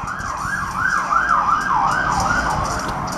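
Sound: ambulance or police car siren in video game Pokemon Ultra Sun

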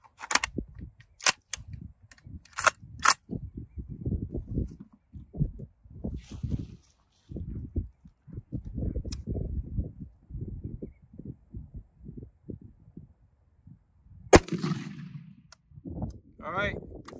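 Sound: AR rifle gunshots firing 55 grain M193 FMJ ammunition

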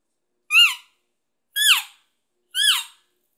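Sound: elk calf call imitated with elk call

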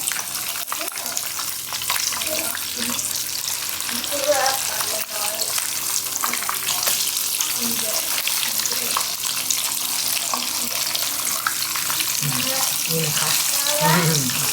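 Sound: pork belly deep frying in oil

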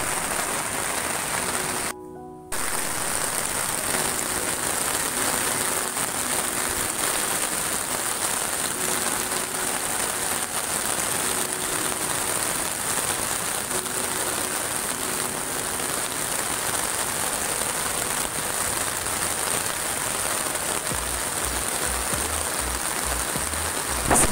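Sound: heavy rain at night on beach campsite

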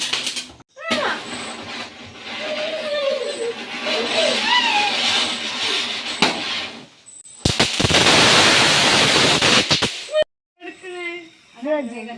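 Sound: firecrackers bursting

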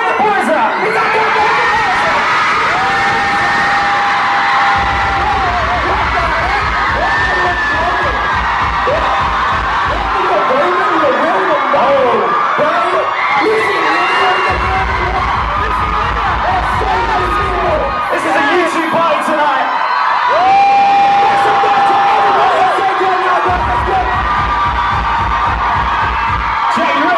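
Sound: concert crowd cheering and making noise

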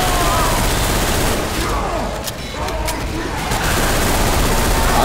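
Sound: gunfire shooting zombies in a video game

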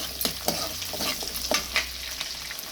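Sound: small shallots sautéing in oil

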